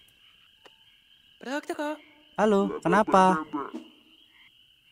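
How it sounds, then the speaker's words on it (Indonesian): Frogs croak in the puzzle adventure game Lost in Play, a few throaty rising calls in short bursts over a thin steady whine, with a voice speaking briefly amid them. "Kodok-kodok."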